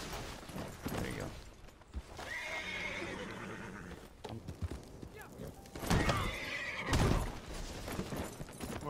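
Horse in Red Dead Redemption 2 Online whinnying loudly near the start and again around the middle, with clip-clopping hooves in between, mixed with game noise and people talking.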